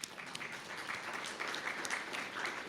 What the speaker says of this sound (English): a round of applause and congratulations to Uruguay